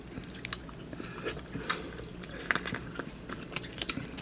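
Close, soft chewing of soy sauce butter rice from a GS25 convenience-store lunchbox, with wet smacks and a few small crunchy bites scattered irregularly, no talking.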